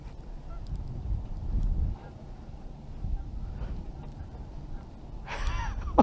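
Geese honk a few times during a duck hunt, mostly faint and distant over low rumbling handling noise, with a sharper, louder honking burst near the end.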